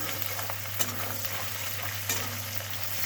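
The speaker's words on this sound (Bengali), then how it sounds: "পেঁয়াজ কুচি, পেঁয়াজগুলো ভালো করে লাল লাল করে ভেজে নেবো।" Chopped onions and green chillies fry in a pan for a fish curry with a constant close sizzle, broken now and then by the scrape of stirring. No voices are heard.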